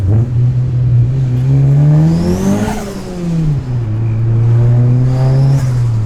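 An old turbocharged Mitsubishi Lancer engine revs up loudly, its pitch climbing, dropping briefly, then rising again with a whooshing, whirring turbo note on top, close by.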